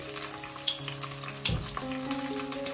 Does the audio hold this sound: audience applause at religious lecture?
no